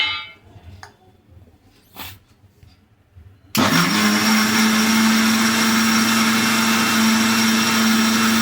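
A kitchen mixer grinder with bottle gourd and poha in its jar starts abruptly after a few quiet knocks, then roars at a steady, loud, high whine that holds unbroken to the end.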